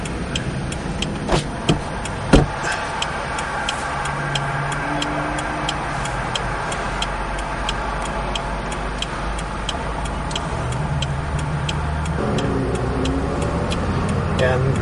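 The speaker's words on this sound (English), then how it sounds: "And all you hear is all the other traffic." Road traffic rumbles steadily in the background while a few knocks sound near the start; a person talks over the noise.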